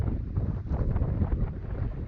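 Strong wind buffeting the microphone at a lake reservoir, a steady low roaring rumble with gusty surges throughout, no voices.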